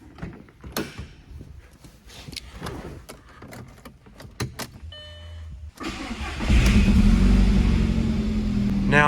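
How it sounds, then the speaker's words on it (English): An Audi S3 engine cranks and fires after scattered clicks and handling noises, then settles into a loud, close, uneven idle that runs to the end. "this is my Audi S3 that I've been building. But ever since I've owned it, it's had a pretty bad idle"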